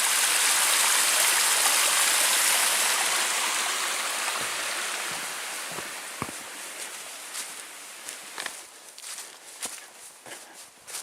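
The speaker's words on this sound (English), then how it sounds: "a beautiful little waterfall going over the ledge here" A small waterfall spills over a rock ledge along a wet, muddy backpacking trail at Pictured Rocks, Michigan, in December, a loud broad rush of water that gradually fades as footsteps crunch past.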